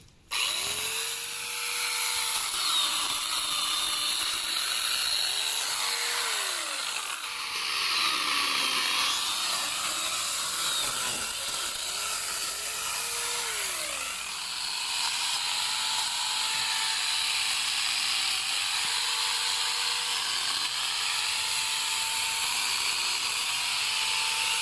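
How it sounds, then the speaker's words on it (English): A small chainsaw attachment on an angle grinder cuts through tree branches and trunk wood with a loud, continuous high-pitched whine, and its pitch dips and recovers repeatedly as the chain bites into the wood. "Wow, this is powerful. Tiny little chainsaw."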